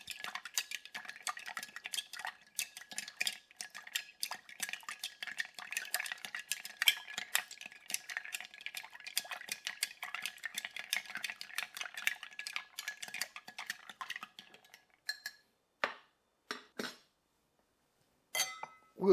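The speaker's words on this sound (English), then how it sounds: "Give it a good stir." A Rob Roy cocktail is stirred with ice, giving a steady run of bright clinks and rattles of ice against glass and a spoon for about fifteen seconds, then a few separate taps and clinks with pauses between them.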